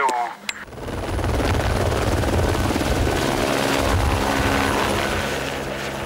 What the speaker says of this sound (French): La plus belle utilisation de l'hélicoptère reste celle du secours.